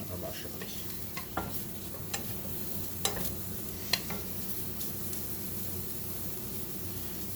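Mushrooms sizzle in a pan over low heat for a mushroom basil grilled cheese, with a steady hiss and a few sharp utensil taps.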